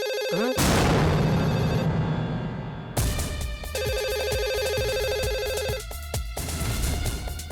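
A telephone rings loudly and repeatedly, with bright electronic ringtone tones that cut off and restart, filling the room in a domestic scene.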